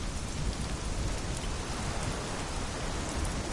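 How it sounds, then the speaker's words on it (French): Steady rain pours down outdoors, a dense even hiss of drops striking surfaces, close and continuous with no voices over it. "Ah bah merde, il pleut."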